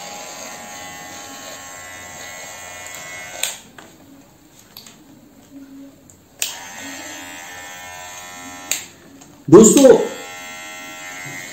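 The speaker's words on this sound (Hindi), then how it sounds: "अब ये वर्किंग में कैसा है ये तो हम लोगों को इस ट्रिमर को चला के ही पता चलेगा, और मैं इसे ऑन करके देखता हूं" A Geemy GM 6008 electric hair trimmer is switched on twice, giving a steady, harmonic-rich buzz lasting a few seconds each time, with switch clicks and quiet pauses between; someone speaks briefly near the end.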